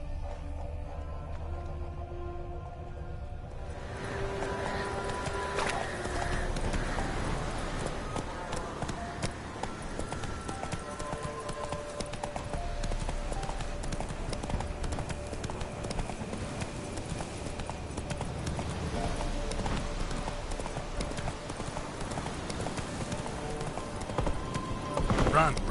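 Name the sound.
horse Roach running in The Witcher 3 video game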